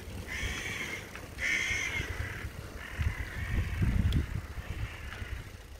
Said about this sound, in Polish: Coś mnie dzisiaj zaskoczyło, to właśnie wrony są w Chorwacji.